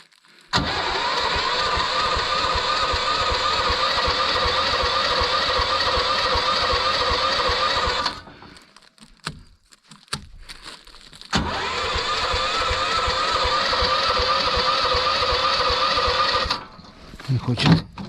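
A petrol engine, likely a small motor on a fishing trip to a forest lake, cranks in a long steady whirring burst, pauses briefly, then cranks again for several seconds without catching.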